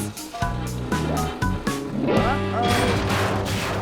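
Heavy cartoon pipes topple and crash into water, a busy layered mix of clanging impacts and splashes with musical score running underneath, loud and close throughout.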